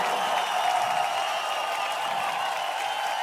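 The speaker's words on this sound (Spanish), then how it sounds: "Denle un aplauso fuerte, por favor." Audience at a concert in Ciudad Juárez applauds and cheers to welcome a singer, a steady, even wash of clapping and crowd noise with no pauses.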